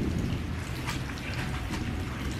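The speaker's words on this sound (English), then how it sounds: "I see the rain starting to come down harder for some reason" Rain falls outdoors as a steady, dense patter with low rumbling underneath, fairly faint and continuous, and no voices.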